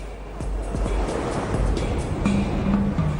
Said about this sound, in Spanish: Cuando el agua pasa por los rápidos, ahonda el lecho del río.